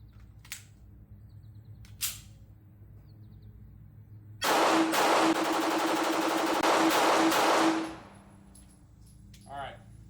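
HK VP9A1 pistol at the range: a couple of sharp isolated reports, then a dense loud rapid string of shots lasting several seconds with ringing brass, then quiet.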